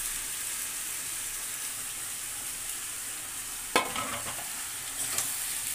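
Spiced meat sizzles steadily in a pan while it is stirred and fried with a little water. The frying hiss is constant, with a brief scraping stir near the end and no talking.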